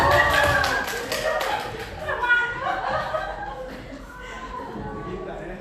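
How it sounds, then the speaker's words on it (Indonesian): Short bursts of hand clapping from a group of teachers at a school discussion session, mixed with light laughter and chatter around it. "Iya, tepuk tangan dong"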